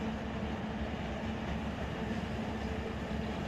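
A long freight train rolls through a rail yard in the Run 8 Train Simulator game, giving a steady, unbroken low rumble with a faint mechanical hum and no voices over it.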